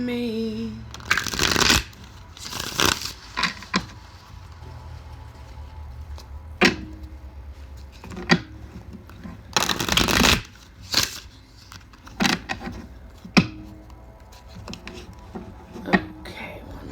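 Cards riffle-shuffled several times in short bursts, with quiet pauses and light clacks of the deck being squared between shuffles.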